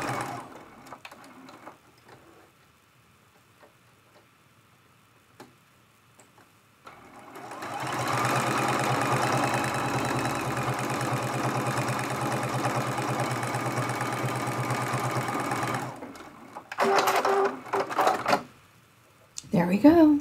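Sewing machine stitching a teapot-shaped fabric mug rug, a long steady run of loud continuous motor hum and needle chatter lasting several seconds, bracketed by quiet handling sounds and brief bursts of stopping and starting.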